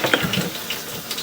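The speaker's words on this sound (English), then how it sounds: "Get some water behind us a little bit there." Steady rushing water flows and gurgles continuously through a pipe, moderately loud and close, with no voices.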